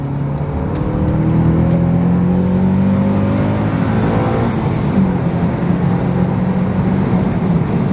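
A Honda Accord Euro CL9 engine pulls hard while driving, its loud, steady drone climbing in pitch as it accelerates out of a corner, with no talking over it.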